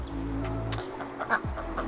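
Chickens clucking inside a barn that also holds rabbits and ducks, short clucks and squawks rising over a low steady background hum, fairly close.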